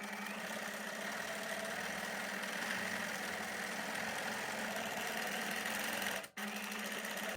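Sewing machine running a black zigzag stitch on stenciled fabric for free-motion embroidery, a continuous close mechanical whir with a fast steady needle rhythm and one brief pause near the end.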